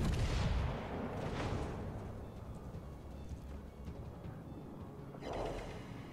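HMS Renown's 15-inch battleship guns firing in the naval combat game World of Warships Legends, heavy booming salvos at the start and near the end with rumbling tails over a low ambient battle drone.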